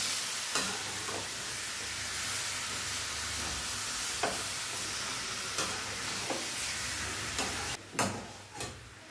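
Chicken sautéing on a medium flame, a steady close sizzle with scraping and stirring clicks from a spoon against the pan at irregular intervals, no voices.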